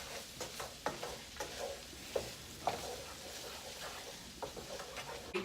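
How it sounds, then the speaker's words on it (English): Seasoned ground meat stirred in a hot pan, a steady soft sizzle with scraping strokes of the spoon at an irregular pace, close up and quiet with no talk. "Give it a mix."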